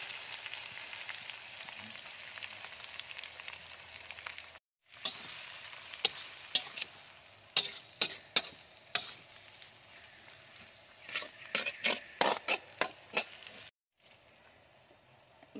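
Pounded spice paste stir-fries with boiled genjer greens, a continuous close sizzle broken by sharp scraping and spatula clacks in quick bursts, with two brief dropouts.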